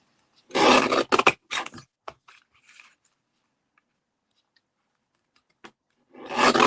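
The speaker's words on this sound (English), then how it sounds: "I'm just going to trim it on my trimmer" Paper trimmer cutting a card, a few short, close rasping slides and scrapes in quick bursts separated by quiet pauses, with another scrape at the end.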